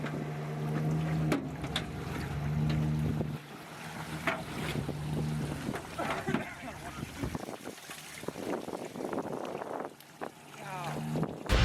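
A small motor on a 16-foot jon boat hums steadily on open water, with wind buffeting the microphone, splashing, and people talking over it.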